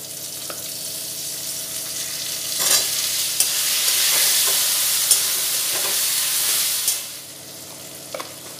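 Cut potato pieces hit hot oil in a pan and fry with a loud, steady sizzle that swells and fades, with a few clicks and scrapes of stirring, close up and free of speech.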